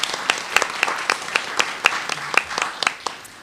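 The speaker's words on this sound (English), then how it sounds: "A big round of applause for this woman, please." Sparse applause from a conference audience for a woman panelist at a thought leadership panel, a handful of people clapping in an irregular rhythm, moderately loud and close, with no talking over it.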